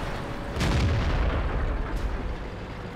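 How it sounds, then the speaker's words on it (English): A Su-152 tank destroyer fires its heavy gun in World of Tanks and ammo-racks a Crusader: one loud, deep boom with a rumbling tail that stays dense and heavy to the end, no voices. "getting himself blown to hell by that Su-152, getting ammo racked there"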